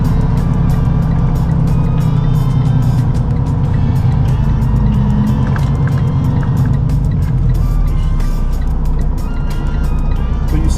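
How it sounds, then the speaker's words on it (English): A truck maneuvering to back into a spot, its engine producing a steady, loud low rumble throughout, with a faint voice speaking at points. "That's why I'm maneuvering the truck around like I'm doing."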